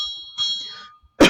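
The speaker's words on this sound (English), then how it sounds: "Sorry about the bell." A single bright bell clang rings out loud and near, with a sustained metallic tone that fades, then a sharp second strike hits at the end, with no talking.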